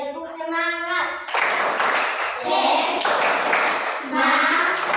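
Children in an elementary classroom clap through a 'tepuk semangat' spirit clap routine while standing, rhythmic bursts of group clapping mixed with young voices chanting and calling out nearby.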